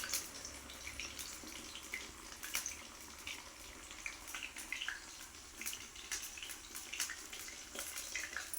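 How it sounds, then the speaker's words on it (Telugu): Telangana-style fish frying in a pan, a dense steady hiss and crackle of oil with scattered sharper pops, fairly close and continuous. "చేప ఫ్రై అయితే అవుతుంది"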